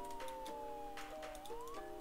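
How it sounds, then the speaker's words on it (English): A police car siren in the video game Roblox wails in a rising and falling tone, faint and steady, with no other sounds over it. "I'm actually gonna turn the siren off."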